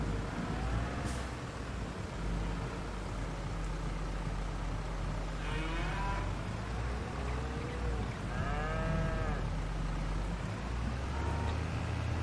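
Cattle in the farming video game Farming Simulator 22 moo a few times, drawn-out lowing calls rising over a constant engine-like drone and ambient game noise.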